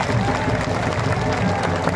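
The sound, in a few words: crowd applauding at political rally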